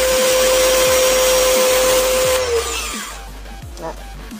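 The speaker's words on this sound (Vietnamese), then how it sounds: "Thì cái máy nó sẽ tạm dừng khi các bạn xịt ra thì nó mới bơm lại." An SJ0093 car pressure washer pumps while spraying, a loud motor whine with a steady tone that drops and slows to a stop partway through, leaving quieter clicks and rattles.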